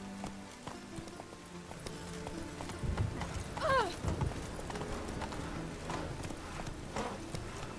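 Roach the horse in The Witcher 3 galloping, steady rhythmic hoofbeats close by, with a short whinny partway through and faint background ambience throughout.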